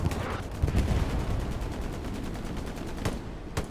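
Gunfire in the video game Hell Let Loose during a competitive match, with a steady crackle of rifle and machine-gun shots under a dense battle din and a couple of sharper nearby cracks toward the end.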